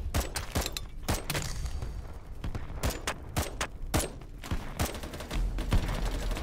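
Repeated rifle shots from an SVD in BattleBit Remastered, sharp loud cracks fired in a brisk irregular sequence amid other gunfire and battle noise.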